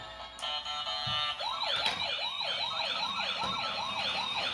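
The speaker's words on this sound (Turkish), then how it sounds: "Işıklı ambulans da geliyor." A toy ambulance with flashing lights sounds its electronic siren, a rising and falling wail repeating in quick regular cycles after a few small clicks and bumps.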